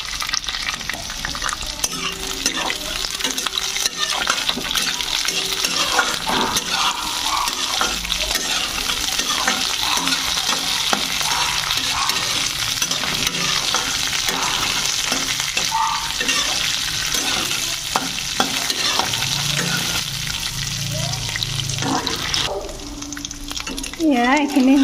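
Almonds stir-fried in a pan give off a continuous dry rattling sizzle as a spatula keeps scraping and tossing them, steady and close throughout.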